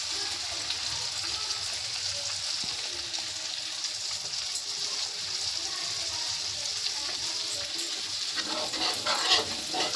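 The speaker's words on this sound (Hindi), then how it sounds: "मसाला मैंने डाल दिया है इसमें, थोड़ा मसाला भुज जाएगा" Masala spices frying in a pan as they are roasted before buttermilk goes in, a steady close hiss of sizzling oil throughout with a few louder crackles near the end.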